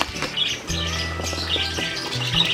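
Yellow parakeets chirp in an aviary, with repeated bright, high tweets and short calls, close and fairly loud, overlapping one another with a few brief squawks and no talking.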